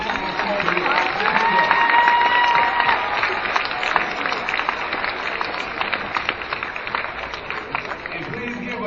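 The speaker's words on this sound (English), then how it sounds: "give a round of applause to these wonderful men and women who spend time with us" An audience at a veteran assembly claps in sustained, dense applause that stays steady and loud, then gradually thins toward the end.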